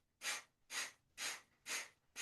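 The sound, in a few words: breathing in and out through the right nostril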